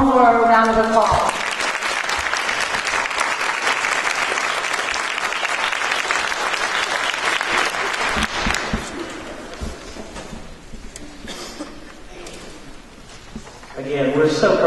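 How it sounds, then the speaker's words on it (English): An audience at a 2015 middle school National Junior Beta Club ceremony gives students a round of applause, steady clapping lasting several seconds, with a voice speaking briefly just before it starts and again as it fades. "If we could give them all one more round of applause."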